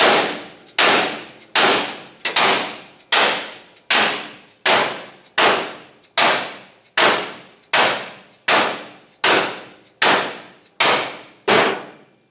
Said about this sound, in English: I'm going to grab my dead blow hammer, see if I can make that happen without it messing up